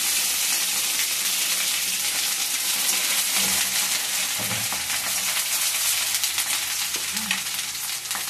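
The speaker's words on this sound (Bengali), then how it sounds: "তেলটা গরম হয়ে গেছে বন্ধুরা। এবার দিয়ে দেবো আদা বাটাটা।" Loud, steady sizzling of ginger paste frying in hot mustard oil, with occasional stirring scrapes and small knocks throughout.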